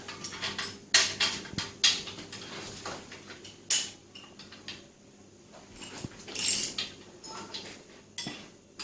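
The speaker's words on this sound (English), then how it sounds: "Now we've got to tighten it all up." Metal tools tightening bolts on a Bambino during a rebuild, using a 17mm spanner and a 19mm socket: irregular close clanks and ratcheting clicks in short scattered bursts, with no talking.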